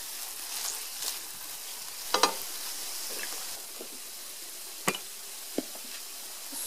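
Blended melon seed egusi stew is stirred in a pot, a soft sizzling bed under a few distinct spoon knocks and scrapes, faint and close with no talk.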